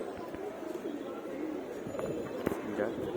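Pigeons at a home loft cooing softly and steadily in low murmurs, with a brief flutter of wings as birds land, while someone talks over them.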